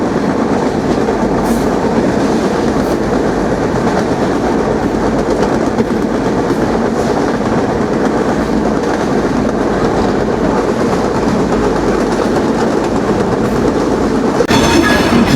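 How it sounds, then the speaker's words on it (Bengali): The Kapotaksha Express passenger train arriving at Poradaha Junction in Bangladesh, running loud and close on the rails with steady rumbling and clickety-clack of wheels throughout, a brief brighter squeal near the end. "নির্ধারিত সময়তে 10 মিনিট বিলম্বে কপোতাক্ষ এক্সপ্রেস ট্রেনটি প্রবেশ করছে বাংলাদেশের প্রথম রেলওয়ে জংশন পুরাদহ জংশনে"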